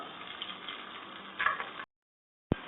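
Three medium sliced onions sizzling as they fry in hot oil in a pan, a steady crackling hiss for under two seconds that briefly swells, then a pause and a sharp short burst at the end.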